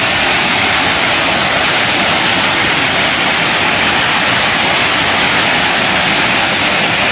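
Full, rushing village river pouring over a waterfall after heavy flow, a loud, steady broadband roar that stays constant from start to finish with no voices.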